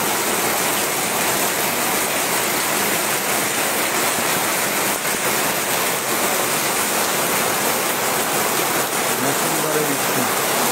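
Heavy monsoon-style downpour pouring over Berachampa in Deganga, a thick, even wash of rain noise that stays loud and constant from start to finish, with no distinct drops or pauses.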